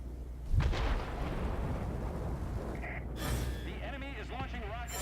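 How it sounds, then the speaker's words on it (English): In a flight combat game with a Ki-102 fighter, rockets launched from an enemy military base give a deep booming blast followed by a rushing roar, with whooshing tones near the end. "The enemy is launching rockets at us from the military base."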